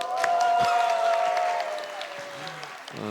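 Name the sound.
congregation applauding during church service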